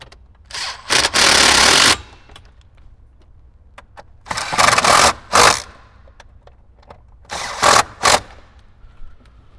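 An 8mm socket on a power driver tightens speaker mounting bolts in an 2018–2023 Jeep JL Wrangler, heard as three close, loud bursts of whirring motor, each a few short spins, separated by quiet pauses.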